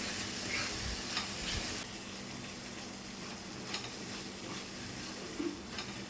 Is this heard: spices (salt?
yes